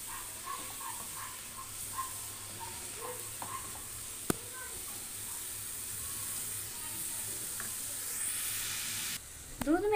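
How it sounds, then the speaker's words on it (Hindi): Bottle gourd cooking in ghee in a pan, giving a soft continuous sizzle and frying hiss with occasional stirring scrapes, quiet and close, with no talk. "इस वजह से हम घी में डाल के लौकी को इस तरीके से हम पका लेते हैं।"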